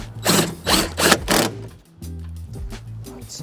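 A ratchet clicks in quick, close bursts as it turns a Torx 30 bit on an Audi A3 8Y grille, four sharp rasping pulses followed by softer mechanical handling.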